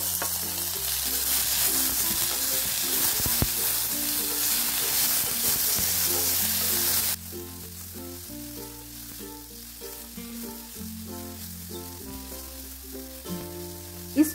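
Tomatoes, beans and mixed vegetables sizzling in a frying pan for an oats dish, a loud steady sizzle that drops suddenly to a quieter crackle halfway, with soft stirring sounds.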